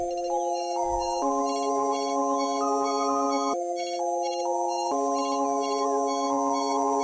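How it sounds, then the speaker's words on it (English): A bright 'Can't Decide' Serum synth from the X-Ray bank plays a melody pitched up an octave, with sustained chord-like tones shifting every second or so and a shimmering upper layer, loud and steady with no talking. "Then I got this Can't Decide synth"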